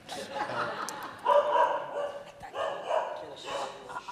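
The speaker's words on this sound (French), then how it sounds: "moi, j'essaye d'écouter le chien aussi, quoi." A dog barks now and then at a farm where a political debate is taking place, its barks mixed in with people talking and laughing close by.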